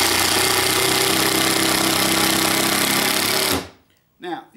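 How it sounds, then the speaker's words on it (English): A Milwaukee impact driver drives a screw with a loud, continuous hammering rattle that runs close and steady for several seconds, then cuts off abruptly, followed by a brief voice. "Let's do one with the impact driver."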